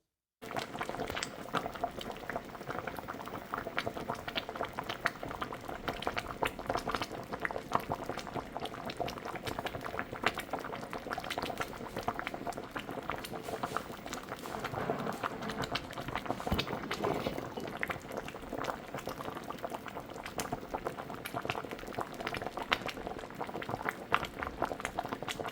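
Egusi stew base bubbling gently under a lid on low heat, with oil risen to the surface: a steady, soft simmering burble that runs continuously, close and unbroken, with no voices.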